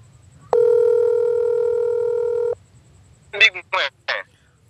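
A telephone dial tone sounds steady and loud for about two seconds, then stops, followed by a few short bursts of someone speaking.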